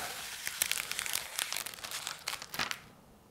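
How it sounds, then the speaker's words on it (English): Protective film is peeled off the screen of a Garmin Echomap Ultra 122SV fishfinder, a close, steady crinkling and crackling that fades out at the end. "Let's do the very satisfying job of peeling that off."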